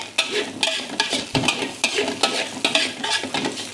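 Fried rice is stir-fried in a pan, the spatula scraping and tossing in quick regular strokes over a steady sizzle, close and loud with no talk.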